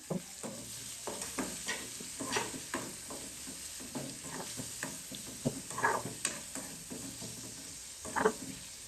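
Tomatoes go into a frying pan over a grated bitter gourd curry, answered by a soft steady sizzle and scattered scraping stirs and clinks of a spoon against the pan. Close and moderately quiet, with no voices.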